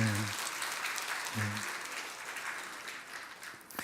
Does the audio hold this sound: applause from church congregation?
yes